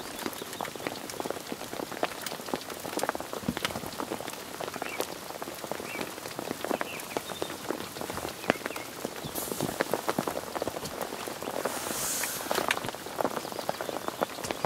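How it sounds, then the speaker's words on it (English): Steady rain pours down, a dense, continuous patter of drops hitting surfaces close by, even and unbroken throughout with no voices. "getting wet under the rain"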